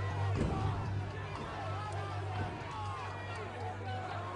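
A large crowd of protesters gathered outside the Maltese parliament, a steady roar of many voices blending into continuous loud babble with no single speaker standing out.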